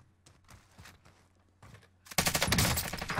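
MP5 submachine gun fire in Call of Duty: Black Ops Cold War: quiet in-game ambience and light movement give way to a sudden, loud, dense burst of rapid automatic shots that runs to the end.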